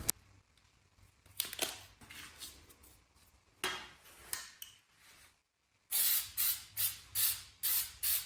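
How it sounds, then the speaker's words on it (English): A spray can of clear shellac hisses in short bursts, then a rapid series of rhythmic sprays, close and fairly loud, with a brief pause of silence between. "I start with a clear shellac spray as a primer to help everything adhere"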